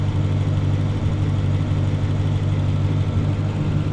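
A car engine idles steadily with a continuous low hum and drone, loud and close, after a vacuum leak; the idle holds even throughout with no talking.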